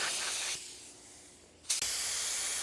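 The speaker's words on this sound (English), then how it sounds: "Let's lay down some sealer. With this gun, I use about 14 psi" Spray gun laying down sealer at about 14 psi, a hissing spray burst, then a pause with quieter air, then a sharp click and another strong close hiss.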